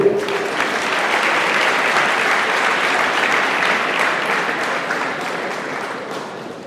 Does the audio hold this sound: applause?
yes